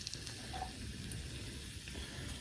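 Pork pieces being reheated in a pan sizzle and crackle softly and steadily, with a few faint stirring clinks and no talk.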